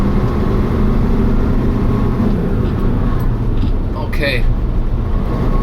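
A 1992 Hino GS truck's diesel engine runs loudly and steadily from inside the cab, a low rumbling drone with gear changes on its simple five-speed box, while someone talks over it.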